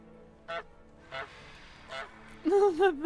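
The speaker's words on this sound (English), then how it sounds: "goose." A goose honks in World of Warcraft, several short nasal honks spaced apart and then a quicker, louder cluster near the end, heard over quiet game background.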